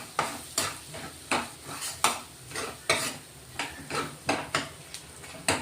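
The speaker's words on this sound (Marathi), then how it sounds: "तीळ आणि धने पावडर केलं ना ते टाकून घेऊ चांगलं मिक्स करून घेतोय" Spoon stirring masala with sesame and coriander powder in a pan, a steady rhythm of about a dozen scraping strokes with light sizzling underneath, close but moderately quiet, no talk.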